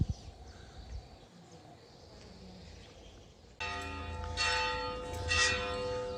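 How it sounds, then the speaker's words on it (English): Faint outdoor ambience in Polop, Alicante, Spain gives way midway to sudden, loud church bells ringing with rich sustained tones, swelling in intensity toward the end. "The church is always making a noise."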